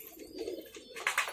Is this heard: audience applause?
no